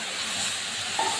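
Cooked curry hits hot oil tempered with bay leaf and cumin, giving a sharp, broad hiss and sizzle that holds steady for about a second.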